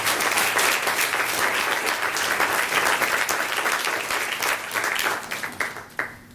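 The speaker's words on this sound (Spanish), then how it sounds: "Denle un aplauso al Señor y denle la gloria al Señor." A church congregation applauds during a Sunday sermon: dense, loud, continuous clapping that breaks into a few final claps and stops.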